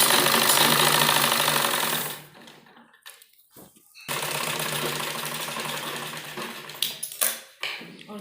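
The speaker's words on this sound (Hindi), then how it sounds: "यहाँ सिलाई लगाएंगे।" An electric sewing machine stitches a trim strip onto a baby frock, running in a steady loud whir for about two seconds, pausing, then starting again for several more seconds with brief stops and bursts near the end.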